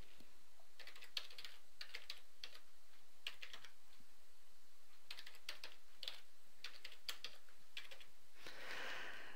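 Fingers tap out an email address and password on a computer keyboard in irregular bursts of close, crisp keystrokes with short pauses, over a steady faint background hiss.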